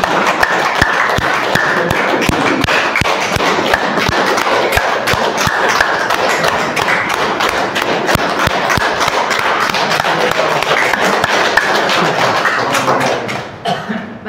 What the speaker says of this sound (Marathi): टाळ्या ज्या वाजवतो, मी रोज टाळ्या वाजवतो.